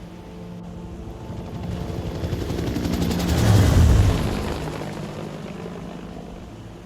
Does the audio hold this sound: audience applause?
no